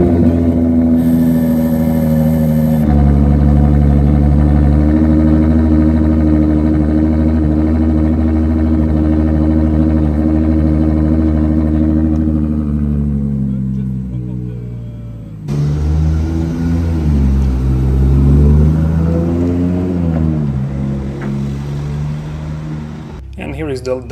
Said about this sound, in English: And now check out the cold start.